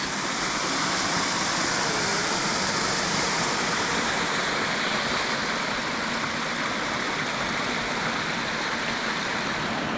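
Steady rushing water tumbling over small creek falls around moss, a dense continuous splash that stays constant and fairly close throughout.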